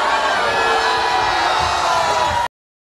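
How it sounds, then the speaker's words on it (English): Large crowd booing, a loud sustained roar of many voices holding steady for about two and a half seconds before cutting off abruptly into silence. "People are booing them."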